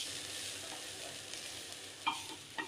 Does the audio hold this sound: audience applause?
no